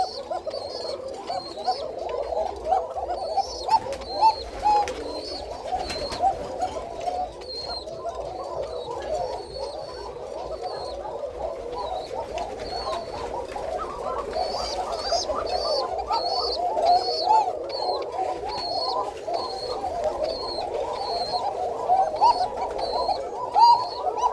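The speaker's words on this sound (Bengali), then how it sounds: "এটা হচ্ছে সাদা কোকা কবুতর" White Koka pigeons coo over and over in low, throaty rolling calls, several birds close by, with faint chirps and rustling mixed in throughout.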